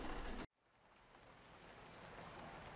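Rain pours down in a horror game, opening with a loud burst that cuts off abruptly, then returning as a faint, steady patter that slowly swells.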